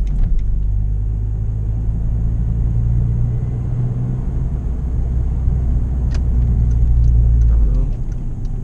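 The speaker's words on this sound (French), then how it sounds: "vous entendrez un petit peu plus le bruit, la sonorité du moteur" A car engine and exhaust rumble steadily from inside while driving through quiet small streets, a loud low drone with slight rises as it accelerates, and no one talks.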